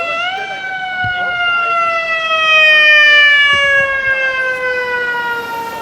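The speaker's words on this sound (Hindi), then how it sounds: "यहाँ तो पुलिस की वैन, यहाँ फायर ब्रिगेड, यहाँ तो रोड वर्क।" A loud emergency siren on a New York street, from a fire engine or police vehicle, holds a single strong wail that glides slowly downward in pitch, close and dominant over faint street noise.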